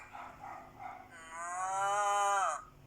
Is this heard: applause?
no